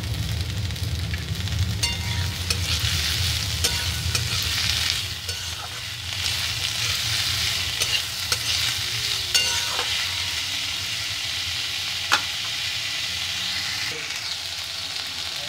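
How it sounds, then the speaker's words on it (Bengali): Chopped potatoes fry in a pan for a loitta (Bombay duck) fish dish, a steady crackling sizzle close by with scraping stirs throughout, and no talking. "আলুটা একটু ভাজা ভাজা হয়েছে, এর মধ্যে দিয়ে দেবো"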